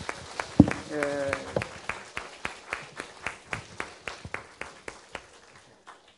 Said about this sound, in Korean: 우리 뜨겁게 한번 박수합니다.